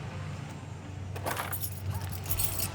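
A truck key fob and keys jangle close by in short metallic clinks and rattles, over a low steady background hum.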